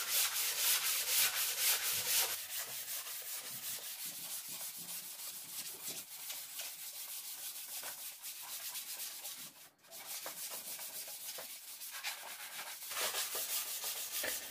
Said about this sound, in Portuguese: Vamos lixar aí.